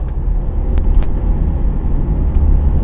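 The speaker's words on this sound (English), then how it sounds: "I'm gonna go for a quick highway drive to really confirm." Cabin drone of a 2012 Volvo V70 D3 diesel wagon with the D5204T3 engine, after a boost leak repair, driving along: a steady low rumble of engine and road noise with a couple of brief ticks, no talk.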